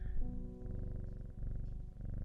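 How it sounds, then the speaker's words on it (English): A cat in the game Strange Horticulture purrs close and steady, with soft rhythmic pulses over a warm low rumble and no talking. "What a good boy, he's purring."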